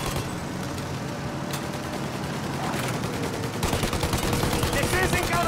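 Gunfire in the video game Mafia Definitive Edition, dense rapid bursts of shots, loud and continuous, mixed with engine roar and chaotic action noise.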